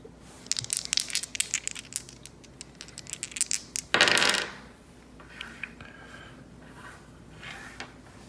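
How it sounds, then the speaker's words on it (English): Two dice are re-rolled in a tabletop war game, giving a light rattling clatter of small hits and then one loud tumbling burst, followed by faint scattered clicks. "So these are the only 2 dice in my pool that I re-roll."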